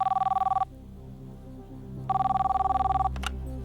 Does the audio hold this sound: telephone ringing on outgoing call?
yes